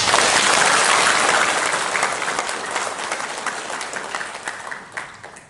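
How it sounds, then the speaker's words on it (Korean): A church congregation bursts into loud, dense applause after a worship song, the clapping holding strong at first and then thinning out and fading over several seconds. "큰 박수 한번 했으면 좋겠습니다."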